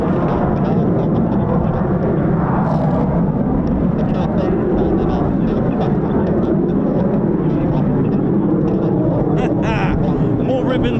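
Steady, heavy jet roar from F-18 fighter jets flying over RAF Waddington, loud throughout, with people talking under the noise.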